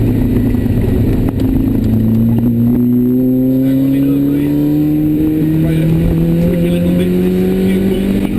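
A GTM Rossa sports car with a Honda 2.0 Type R VTEC engine revs steadily upward, its loud droning engine tone climbing in pitch over several seconds. It is heard close up and alone, with no talk.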